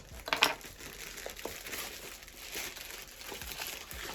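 Quiet crinkling of a thin plastic parcel bag, with a sharper rustle early on, then softer intermittent crackles as the bag is handled up close.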